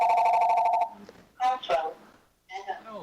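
A phone rings during an online infrastructure and environment committee meeting, giving one steady electronic tone for nearly a second before speech breaks in, with talk continuing afterward.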